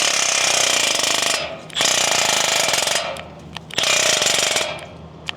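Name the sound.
Milwaukee tool working on motorcycle nuts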